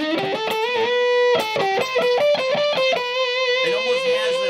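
Electric guitar with distortion from a Monkey FX pedal, played on the neck pickup with the mids boosted, a thick fuzzy tone like a Big Muff. Short melodic phrases of sustained notes and quick runs, loud and close, with no talk.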